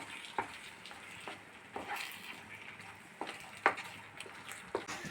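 Banana halwa with cashews, raisins and peanuts frying in a pan, a soft steady sizzle broken by occasional sharp clicks and scrapes of stirring, quiet and close.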